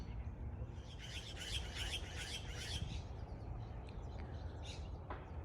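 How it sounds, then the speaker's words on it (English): Birds chirping in a park in Redlands, California: a rapid trilling series of tweets over steady outdoor background noise, followed by a few scattered fainter calls. "Park is also very popular with the birds."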